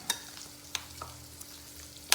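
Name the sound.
mixing jackfruit seed bhaji batter with rice flour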